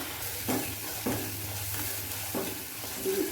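Turmeric and spice masala frying in a pan with a splash of water, giving a steady soft sizzle with a few stirring scrapes spaced through it.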